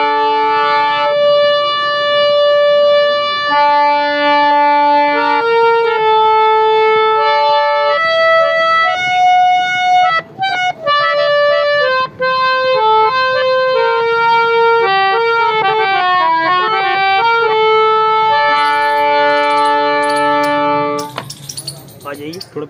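An old German-reed harmonium with 3.5 octaves and a torn bellows is played steadily, sustaining reedy chords and a melody line with rich, buzzy tones, loud and close, while someone talks over parts of it.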